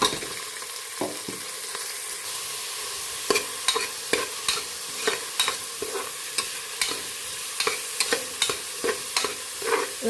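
Finely chopped onions sauté in a pan for beef curry, a constant close sizzle broken by frequent sharp scrapes and taps of a spoon stirring against the pan, irregular and alone without talk.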